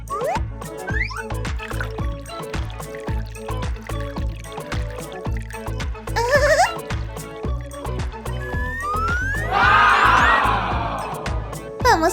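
Water is poured into a container holding oil for a science experiment, a gurgling, splashing pour with dripping, set against a busy rhythmic music bed and cartoonish effects.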